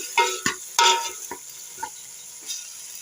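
Fish pieces frying in a pan for a village-style fish curry, a steady sizzle under sharp scraping stir strokes of a spatula, several distinct scrapes early and softer ones later, close up with no talk.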